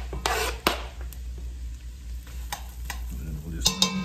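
Onions frying in melted butter in a pot for fish chowder, with a soft sizzle and several sharp stirring clacks and scrapes close by.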